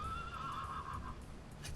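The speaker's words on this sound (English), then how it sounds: "Ooh, here comes the horse." A horse in the village-building game Banished neighs in a bright, wavering whinny lasting about a second, set over a steady, fairly quiet game ambience with soft hoof-like patter underneath.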